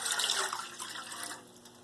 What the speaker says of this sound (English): We're first going to start off with the water, with just 2 cups of water.